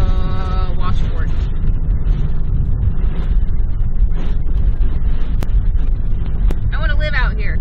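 A vehicle rattles and rumbles steadily over washboard gravel on the Denali Highway in Alaska, a dense low roar with wind buffeting, while a person talks over it.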